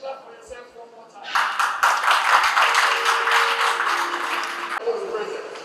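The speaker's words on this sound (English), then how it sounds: "Please clap for yourself one more time." An audience at a school for the blind in Abuja, Nigeria, breaks into loud, sustained clapping for about three and a half seconds before it tapers off. A voice speaks briefly before and after.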